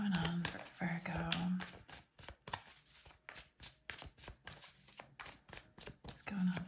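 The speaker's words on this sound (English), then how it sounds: "the way I shuffle and draw cards, I ask if the cards pop out." Oracle cards being shuffled for a love reading, a run of crisp riffling and tapping clicks that come in quick bursts, close and fairly quiet, with a voice talking at the start and end.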